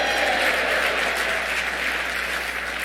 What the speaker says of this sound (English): I thought that might get some applause